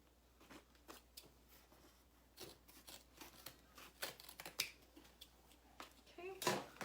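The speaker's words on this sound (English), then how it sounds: "we're gonna trim the excess, snip all my threads" Scissors snip stray threads on a sewn fabric beauty bag, giving a few quiet, scattered clicks spread through the clip with soft background noise and some handling sounds.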